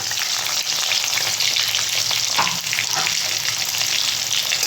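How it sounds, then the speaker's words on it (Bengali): Potatoes frying in hot oil in a pan, a loud, steady sizzle that runs unbroken from start to finish with no one talking. "এই তেলের মধ্যে আলুগুলো দিয়ে দেবো বন্ধুরা দিয়ে আলুটা জাস্ট আমি একটু ভেজে নেব"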